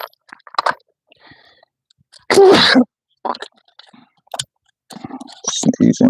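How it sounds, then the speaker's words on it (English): A person sneezes during brake work on a 2015 Ford F-150 Lariat with a 3.5-liter engine: one loud, explosive sneeze bursts out midway, surrounded by smaller sharp snorts and clicks and quiet stretches. "Sneezing, sneezing, sneezing."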